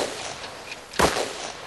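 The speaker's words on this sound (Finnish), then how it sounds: "Kuulitteko laukauksia, professori?" A single sharp crack of a gunshot rings out once in a radio drama, fairly close, over a faint background hiss, with no voices.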